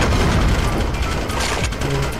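A grenade explodes in 007 Agent Under Fire, a loud, close boom that blends into sustained crackling blasts and rumbling gunfire-like bursts throughout.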